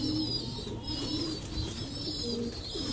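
Pigeons cooing in a home loft where tufted Saharanpuri birds are kept, soft repeated low coos continuing steadily through the moment with no talk.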